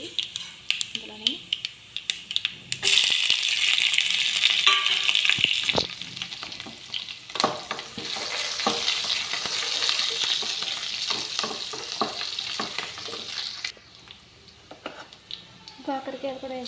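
Mustard seeds, cumin, onion and green chillies frying in oil in a pan, a loud close sizzle that starts suddenly and rises to a dense crackling hiss with scraping stirs and clinks, easing near the end, while someone talks at times.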